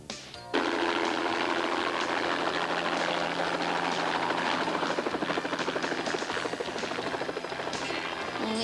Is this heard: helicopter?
yes